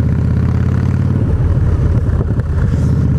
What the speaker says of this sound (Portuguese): O filtro, da hora que você acelera, você ouve o filtro puxando o ar.